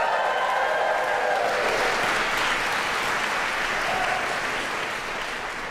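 A 2023 Peabody graduation audience of families and graduates bursts into sustained applause and cheering, a dense, steady roar of clapping that fades slightly toward the end, with no talking over it.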